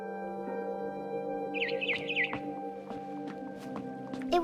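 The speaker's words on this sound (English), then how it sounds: "Then I heard chirping outside my window." A barn swallow chirps outside a window in a video game, giving a short run of bright, twittering calls over a steady low background hum.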